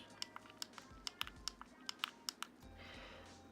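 Buttons on a Reuleaux RXGEN3 vape mod pressed repeatedly, a string of about a dozen sharp, close little clicks at an uneven pace over a faint background hiss.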